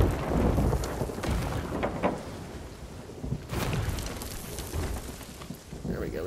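Stormy weather in the pirate game Sea of Thieves, with steady rain noise and occasional thunder rumbles at sea under a ship's voyage, with a voice talking briefly over it.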